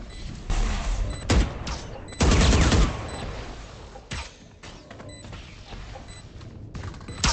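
Gunfire in the Valorant video game during a tournament match, with several loud, sharp shots and bursts separated by quieter gaps.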